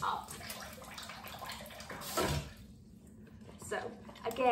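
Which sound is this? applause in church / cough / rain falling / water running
water running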